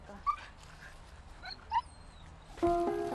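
A beagle on a leash whimpers in short high-pitched whines, a few separate cries spaced through the clip, fairly close and with no talk over them.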